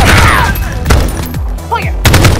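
Gunfire in the Jacky Trigger mobile shooting game comes as a short, loud burst of shots and booms over a game soundtrack and voice callouts, lasting a couple of seconds.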